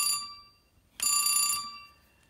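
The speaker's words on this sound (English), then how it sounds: "the subscriber is on hook on the one phone I have off hook, so I'm going to ring it." An old telephone switchboard rings a subscriber's phone: a brief bell trill, a pause, then a longer, brighter ring lasting about half a second before fading out.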